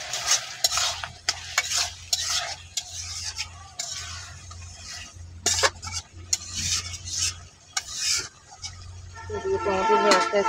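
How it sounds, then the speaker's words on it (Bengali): A spoon stirs tomato curry with puti fish, spices, turmeric and salt in a pan over the heat, with steady clinks and scrapes over a soft sizzle, close by and without voices. "টমেটো আস্তে আস্তে সিদ্ধ হয়ে যেতেছে।"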